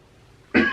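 A single short cough, close and fairly loud, bursts out abruptly after a near-silent pause and is heard alone.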